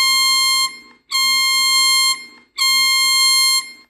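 The Bahamas emergency alert system alarm sounds as three loud, harsh, buzzing tone blasts, each about a second long and separated by short gaps.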